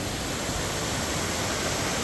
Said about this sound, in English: Just waterfall after waterfall.